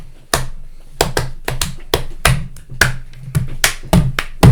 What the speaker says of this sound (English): You just hear a small amount of pattering as someone on the couch is clapping.